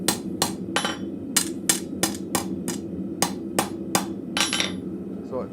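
Hammer blows ring out on hot steel as an arrowhead is rolled on an anvil in a blacksmith shop, about eleven sharp, bright strikes in an uneven rhythm over a steady low forge roar, close and loud.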